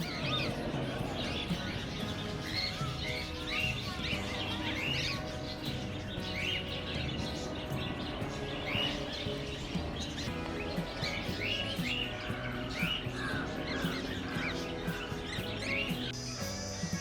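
Budgies, cockatiels and other exotic birds in a park aviary in Chennai chirp and tweet continuously in a dense, busy chorus. Many overlapping calls sit at moderate distance with no talk.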